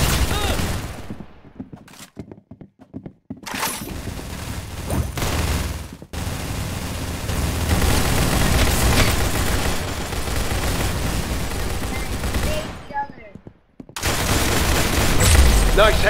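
Rapid gunfire from a shooting video game, dense bursts of shots and booms with short gaps and fairly loud, with voices speaking at times.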